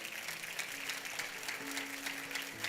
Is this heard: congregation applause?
yes